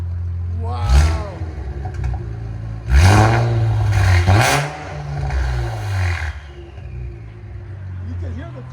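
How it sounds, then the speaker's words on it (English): An Infiniti Q60 twin-turbo V6 with an aftermarket exhaust, close by, revving in several loud, rising bursts, with turbo spool whine swelling between them. People talk over it. "You can hear the turbo spooling up."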